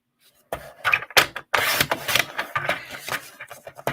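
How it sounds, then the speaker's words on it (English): A Stampin' Up! paper trimmer slices through cardstock pieces at a craft table, with several short sharp cuts and clicks followed by sliding, rasping blade strokes, close and fairly quiet. "we're going to cut a few more pieces. Hopefully you all have our trimmer."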